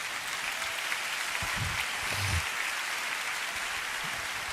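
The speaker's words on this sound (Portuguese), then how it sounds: "Você pode aplaudir a Jesus?" A church congregation applauding during a Portuguese-language sermon, a dense, even roar of clapping filling the room, with faint low murmurs underneath.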